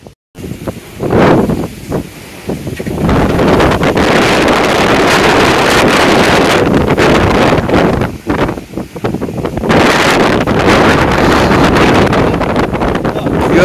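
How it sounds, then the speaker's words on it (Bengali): Strong storm wind roars and gusts against the microphone almost continuously during Cyclone Remal, with a brief lull near the middle before it surges again; passing traffic can be faintly heard beneath it. "হাওয়া যা দিচ্ছে বোঝা যাচ্ছে হু হু করে হাওয়া"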